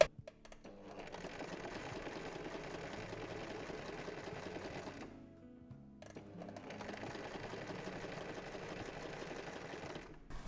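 Sewing machine stitching a zip into fabric, its needle running in a steady fast rattle, briefly pausing mid-run before resuming at an even pace, close and alone with no talk.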